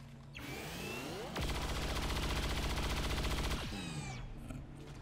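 Sustained automatic gunfire in the XCOM 2 video game, a rapid dense burst of about two seconds, loud and close, framed by whooshing swoops and mechanical effects before and after.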